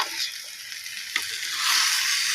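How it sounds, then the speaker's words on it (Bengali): Spinach paste stirred in a little ghee in a pan, a bright continuous sizzle with a brief scrape of the spoon midway, close and fairly loud, no voices. "দিয়ে এবার আমি নেড়ে চেড়ে জলটা শুকাবো পালং শাক।"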